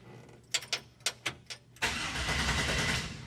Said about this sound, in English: Let's see if it'll crank over.